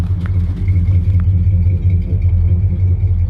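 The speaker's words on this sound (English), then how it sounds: "That's the sound of a 318 Poly" A 1966 Dodge Coronet with a 318 Poly V8 idles steadily nearby, a deep continuous rumble with faint clatter and no talking.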